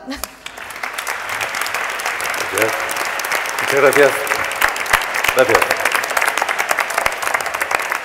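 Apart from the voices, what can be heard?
audience applause welcoming a guest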